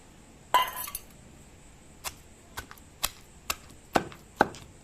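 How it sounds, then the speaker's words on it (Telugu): Garlic is pounded for tamarind chutney, one rough crunching blow followed by a string of sharp, separate knocks at an uneven pace, close and clear with no talk. "దంచాలి ఫ్రెండ్స్ వెల్లుల్లిపాయలు ఉన్నాయి కదా వీటిని కూడా యాడ్ చేసేసుకుందాం"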